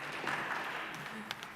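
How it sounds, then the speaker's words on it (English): An audience applauds at a memorial service celebrating a life, with dense steady clapping that fills the whole stretch. It is moderately loud, with a few sharper claps near the end. "You can applaud"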